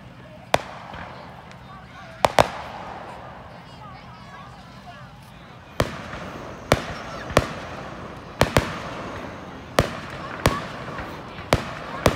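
Small homemade fireworks pop outdoors during an Independence Day weekend, sharp loud cracks coming singly and in quick pairs at irregular intervals, over a background of crowd babble and nearby talking.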